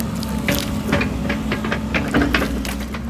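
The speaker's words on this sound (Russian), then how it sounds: "Берем утрамбованное место, льем воду." Water poured onto compacted sand in a garden plot, a steady splashing, trickling stream close by that runs throughout and soaks away into the ground.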